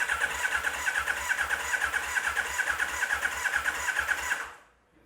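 The starter motor of a Yamaha XJR 1300 motorcycle cranks the engine during a compression check, a fast rhythmic whirring chug that runs steadily for about four and a half seconds before stopping, close up with no talk.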